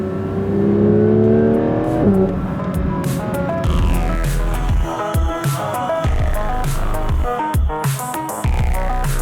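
A Porsche 992 GT3's 4-litre, 510-horsepower engine heard from inside the cabin, revving high and rising through gears with sharp shifts and a loud, throbbing howl.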